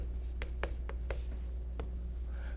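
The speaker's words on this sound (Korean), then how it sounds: "항등식을 유지해야 되니까 여기 써볼게요" A marker or chalk writes on a board in a quiet room, producing a series of short, sharp strokes in an uneven rhythm, close and fairly clear over a low steady hum.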